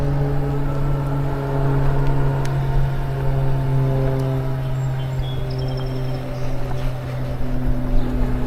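A Flyer Via kid-carrying e-bike's 500 watt hub motor whines steadily on throttle while riding, with layered harmonic tones and road and wind noise, close and fairly loud, no talking.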